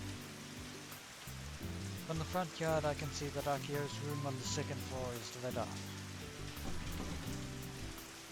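Rain falls steadily as ambience in the Robotics;Notes Elite video game, a soft continuous patter under a spoken narration line with a music bed.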